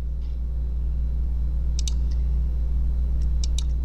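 Two short bursts of computer mouse clicks sound in a quiet room while someone works on a computer, one pair midway through and another near the end, sitting above a steady low hum.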